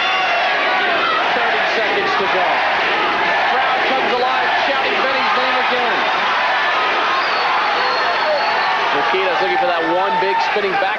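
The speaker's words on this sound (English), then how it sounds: "Crowd comes alive, shouting Benny's name again." A fight crowd roars and chants a fighter's name at a classic kickboxing bout between Benny "The Jet" Urquidez and Takahishi Tagami, a dense, continuous wall of shouting voices.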